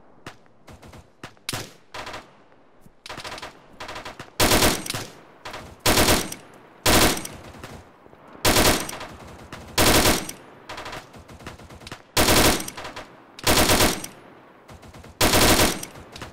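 Repeated bursts of automatic gunfire in the Arma military game, loud sustained volleys of several seconds each separated by short gaps and scattered single shots, with no talk.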